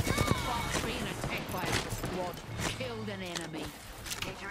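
Rapid gunfire bursts from a competitive first-person shooter match, several quick volleys and impacts layered with game effects, heard under steady talk from a player.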